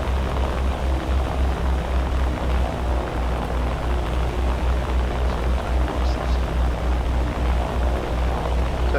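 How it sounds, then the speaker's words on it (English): A B-29 bomber taking off in War Thunder, its propeller engines giving a steady, loud droning roar that holds evenly throughout with no pauses or voices. "Oh, the other plane's taking off behind me this time."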